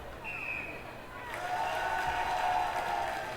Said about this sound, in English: Under the cover of the crowd reacting to what sounds like a particularly good mark on Carlton's side